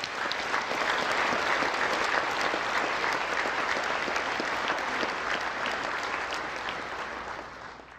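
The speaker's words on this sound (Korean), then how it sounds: "오늘 참석한 이분들께 뜨거운 박수 부탁드리겠습니다" Hall audience at a national prayer breakfast breaking into warm applause, thick continuous clapping from many hands holding steady before gradually fading toward the end, no speech over it.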